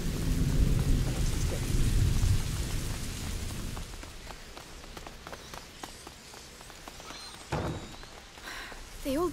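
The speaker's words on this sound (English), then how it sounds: "Lucas, Hugo, stay out of the rain." Rain and thunder in the video game A Plague Tale: Innocence, a heavy downpour with rumbling thunder that is loud at first, then fades to pattering drops with another rumble near the end.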